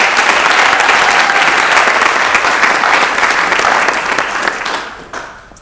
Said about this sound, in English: why don't we clap for Tiffany Twee?